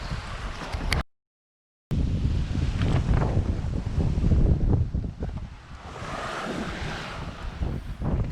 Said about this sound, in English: the winds are continuing to increase, and the forecast models are now showing winds gusting up into the 30 knot range overnight